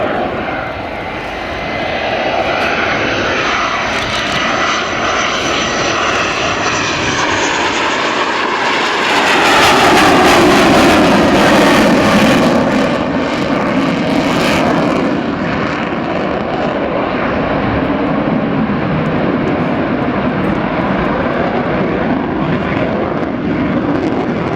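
Sukhoi Su-27 jet fighter roaring loudly at the Fairford airshow, a sustained engine blast swelling as it passes with sweeping tonal shifts, no voices.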